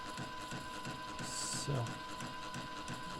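A DTG 1400 direct-to-garment printer runs after its shaft has been oiled along its full length, giving steady mechanical whirring and rhythmic clicking with a brief higher whine, while a person speaks over it.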